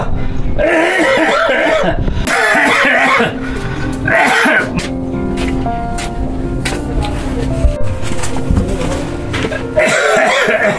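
A man gives several harsh coughs and throat-clearing bursts that repeat at close range, loud and rough, with brief pauses between them.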